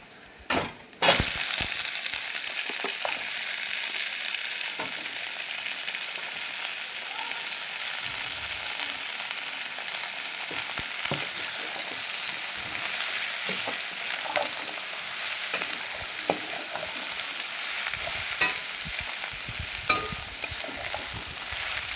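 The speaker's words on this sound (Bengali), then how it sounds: "পেঁয়াজগুলো লাল লাল করে ভাজা হয়ে গেছে এবার পুঁই শাকগুলো দিয়ে দেবো" Malabar spinach and onions, the onions browned, frying in oil in a pan with a steady close sizzle and occasional stirring scrapes and crackles, no talking.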